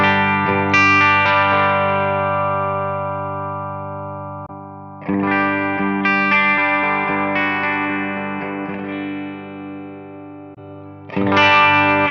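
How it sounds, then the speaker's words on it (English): Sustained clean electric guitar chords through a Tonex capture of a Greenback speaker cab ring out and slowly decay, struck again three times at even intervals, with a warm, slightly edgy tone. "let's compare that to the clean sound over here with the Greenback"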